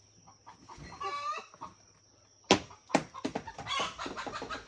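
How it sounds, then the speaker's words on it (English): A chicken clucks in a short burst of bird calls, then several sharper squawks and clucks in quick succession, fairly close and moderately loud. "let me see if I can scare this chicken"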